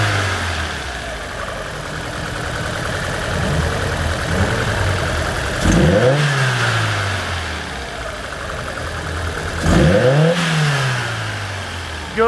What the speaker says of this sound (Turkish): Aracımız şu anda benzin konumunu aldık. Benzindeki çalışması ve gaz vermesi bu şekilde.